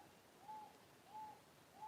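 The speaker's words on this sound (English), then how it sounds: "There's a bird just cooing out there." A bird cooing outdoors, three soft, evenly spaced coos repeating about every three-quarters of a second, faint and distant against a quiet background hiss.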